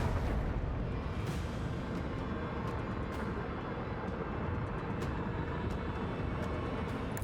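Macro cannons fire on enemy ships in Warhammer 40,000: Rogue Trader, heard as a dense, continuous roar of heavy booming blasts with sharp cracks scattered through it, loud and sustained throughout.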